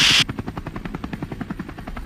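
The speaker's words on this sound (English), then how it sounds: "listening to helicopters circle overhead." Helicopter sound effect with a rapid, even rotor chop pulsing overhead at moderate volume, after a brief loud burst at the start.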